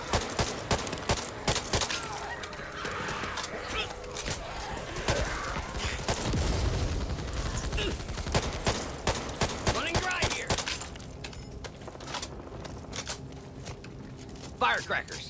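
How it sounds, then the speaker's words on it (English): Firecrackers go off in the zombie shooter game Back 4 Blood, a dense run of rapid crackling pops and bangs that continues through the passage, mixed with game noise while characters talk over it. "Firecrackers."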